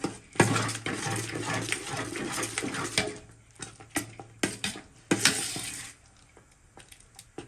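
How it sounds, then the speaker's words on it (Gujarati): A spoon stirs a sago (sabudana) mixture cooking in a pan for potato chakri, giving repeated scraping and clanking strokes over a soft sizzle, loud and close, with brief pauses between bursts. "પચાસ ટકા સાબુદાણા એકદમ ટ્રાન્સપરન્ટ થઈ ગયા છે હજુ આપણે થોડી વાર મિક્સ કરીશું"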